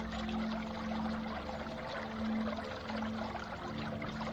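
Water bubbles and churns on the surface as a sound effect in an audio dramatization of Dante's Inferno, a steady, continuous wash with no voices.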